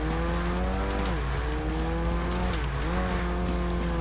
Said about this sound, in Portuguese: Vou dar um pião com ele.